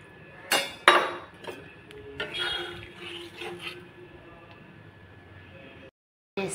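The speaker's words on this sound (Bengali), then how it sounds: "এই বাটিটা ধুয়ে জলটা একটু দিয়ে দেবো," A bowl rinsed and its water tipped into a pan of cooking fish, with sharp clinks of the bowl early on, then a steady splashy pour and rinse, close and moderately loud, ending abruptly.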